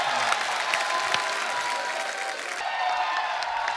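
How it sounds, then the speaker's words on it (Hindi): A studio audience at a comedy talk show applauds and cheers for actor Tiger Shroff, a loud dense clapping crowd throughout. "टाइगर के लिए जोरदार तालियां"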